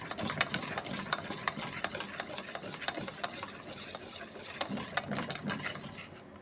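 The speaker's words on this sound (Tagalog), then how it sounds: "Continue mix lang siya hanggang sa maglapot." A sticky sweet mixture, cooked like maja blanca, is stirred as it thickens, giving quiet, rhythmic ticking and scraping strokes in a steady pattern with no talking.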